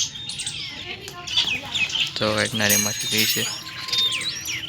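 White pigeons kept at home give scattered bird calls and rustling in the background while a person speaks over them at close range.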